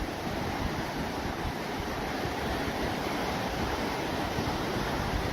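Heavy hurricane storm surf roars steadily against a Florida shore, a continuous rumbling wash of waves with wind noise buffeting the microphone.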